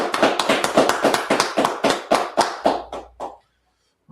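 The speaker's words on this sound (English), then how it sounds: "let's clap it up" A small group claps hands in a steady rhythm, about a dozen sharp, loud claps in quick succession that stop abruptly, followed by a short silence.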